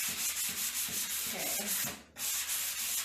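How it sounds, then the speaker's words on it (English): Hand sanding of wooden furniture with the grain, prepped for paint or stain: steady back-and-forth rasping strokes, close and loud, with a brief pause near the end before the rubbing resumes. "generally you always want to sand with the grain of the wood"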